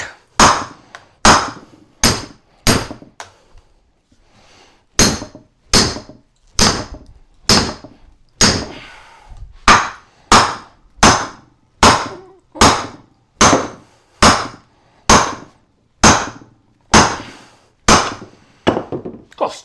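Repeated hard hammer blows resetting and re-wedging an old axe head, roughly one strike per second, loud, close and crisp, with a brief pause partway through.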